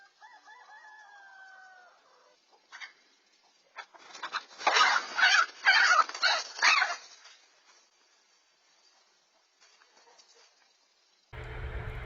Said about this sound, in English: it's just a little bit of chicken squawking and some feathers flying